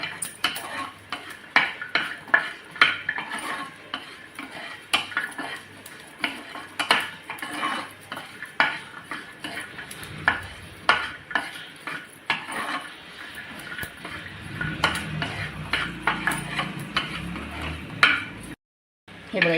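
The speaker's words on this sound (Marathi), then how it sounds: "लसूणसुद्धा आपल्या याच्यामध्ये छान असा भाजून घ्यायचा आहे." Green chillies and garlic dry-roasting in a pan, a busy run of close metallic scrapes and clinks from a stirring utensil over a light sizzle, with a brief gap near the end.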